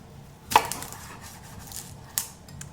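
A knife slices the fluffy end off a shallot with two crisp chops on a cutting board, a short pause between them, close and fairly quiet with no talking.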